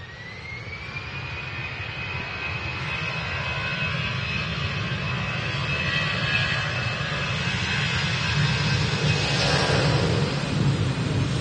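A jet plane takes off from Manchester Airport, its steady, loud engine roar with a high whine swelling gradually and holding strong throughout, with no voices.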